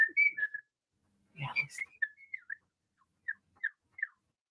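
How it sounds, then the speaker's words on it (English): A pet cockatiel gives clear, close whistles and short chirps in bursts, a cluster of tones, a pause, then a few more spaced chirps, with a brief spoken word partway through. "cockatiels and most birds they can't stay quiet unless they're asleep. Oh. They constantly make noise."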